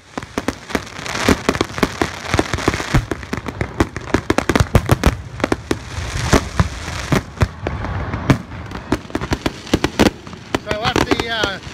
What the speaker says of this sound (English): Come down here to catch some fireworks.